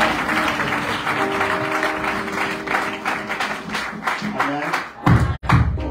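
A church congregation applauds at a French-language pastors' ordination service, dense steady clapping from a crowd filling the space, with voices mixed in and a few louder thumps near the end.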